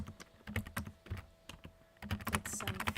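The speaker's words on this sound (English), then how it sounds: "let me just aggressively type, so ignore that" Rapid, aggressive typing on a computer keyboard: dense bursts of sharp clacking keystrokes with brief pauses between runs, close and fairly loud, no talking.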